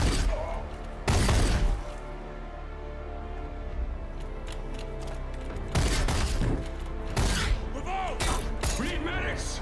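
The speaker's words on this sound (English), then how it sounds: "They're firing at us." Gunfire from a science-fiction TV episode of The Expanse erupts in sharp, loud bursts, one around the start and a cluster later, over a constant low rumble, with frantic voices in the mix.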